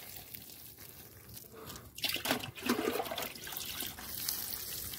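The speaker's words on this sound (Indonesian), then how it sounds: "Kita siram dulu supaya hijau lagi ya" Water trickles and splashes as vegetable plants, spring onions and tomatoes, are watered in a village garden on an afternoon, a soft steady pour rising in the middle and continuing at moderate level to the end.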